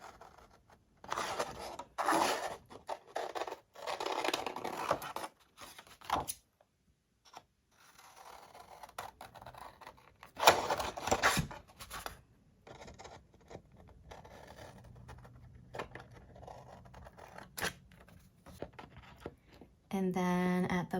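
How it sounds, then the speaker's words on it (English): Scissors cut straight strips out of paper or card for a handmade treat holder, a series of crisp snips and rubbing sounds in bursts with pauses, close up, with a person talking in between. "So for my top two strips, I'm just gonna cut those out as they are."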